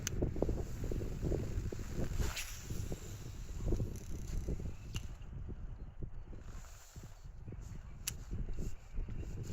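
Gusty headwind buffeting the microphone while baitcasting outdoors, a close, continuous low rumble with rising and falling gusts and faint line or reel swishes, no talking.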